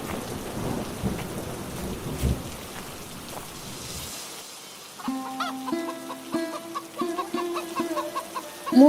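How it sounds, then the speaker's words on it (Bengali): Cartoon rain pours steadily while thunder rumbles loudly in the first half. The storm then fades, and close chickens begin clucking in a rhythmic series over the remaining seconds. "সন্ধ্যা হয়ে এলো, বৃষ্টিও শুরু হয়েছে"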